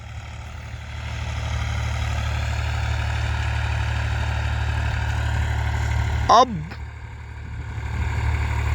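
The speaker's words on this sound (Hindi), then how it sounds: "ट्रैक्टर से जुताई की जा रही है फाइनल।" A tractor engine ploughs a field, its steady low diesel drone running throughout, loud and close. A voice briefly speaks near the end.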